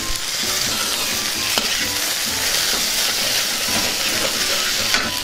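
Boiled, peeled, cut taro roots tossed into a hot oiled pan for a fry and stirred: a loud, continuous sizzle with steady scraping and stirring throughout, no talking.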